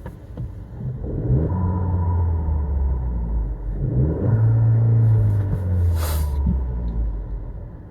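A 2023 Jeep Renegade's turbocharged engine with a cold air intake: a loud, steady low rumble that rises twice in revving swells, with a brief hissing whoosh near the end.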